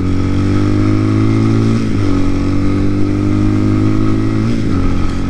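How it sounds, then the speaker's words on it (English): A TaoTao TBR7 dirt bike engine drones loudly and steadily, with two brief surges in revs where the rear wheel spins on gravel, heard close up without talk. "Wheel spin."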